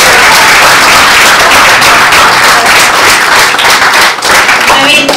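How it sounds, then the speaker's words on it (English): Loud, dense audience applause fills a hall after a talk on the future of money, a steady wash of many hands clapping throughout with no break. "Please let's give him another round of applause."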